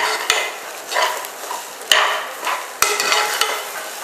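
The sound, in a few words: wheat rava being stirred and roasted in a pan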